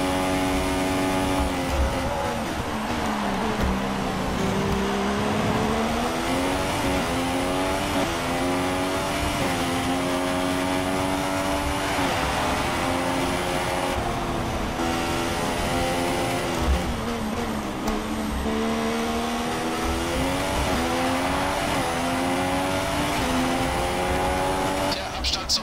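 A Formula 1 car in the F1 2016 racing game at the Russian circuit screams steadily through its gears, its engine note rising and falling continuously for the whole stretch, loud and close, with a commentator's voice running underneath.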